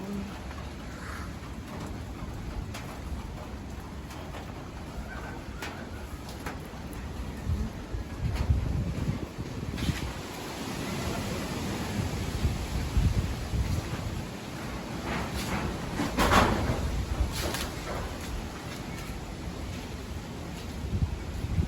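Strong typhoon wind roars and gusts continuously outdoors, buffeting the microphone with rustling debris and rising surges throughout.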